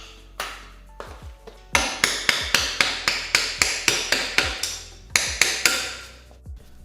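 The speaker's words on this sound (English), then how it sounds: "I took the hammer and the screwdriver like that and just tapped on it." A hammer taps a screwdriver against a part on an Indian Chief motorcycle, giving a steady run of about a dozen sharp metallic strikes at close range, with a few lighter taps before and after.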